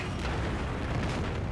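A rocket explodes in Battlefield as a short, heavy, sustained boom with rumbling debris, loud and close, filling the whole moment.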